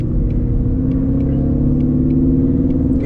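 A Shelby GT350 Mustang's engine pulls steadily after a manual shift into second gear, a loud close-up droning rumble with a strong steady pitch and no talk over it.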